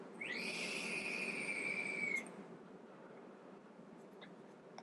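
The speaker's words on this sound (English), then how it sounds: "it's giving me a little whistle" A high, steady whistle comes from a vape's hand-built stainless steel coil and dug-out airflow hole during a draw. It holds for about two seconds before cutting off, leaving only a soft hiss.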